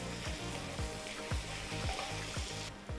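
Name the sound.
tomato paste and grated tomato frying in a pan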